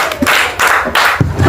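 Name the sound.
students clapping for a boy's answer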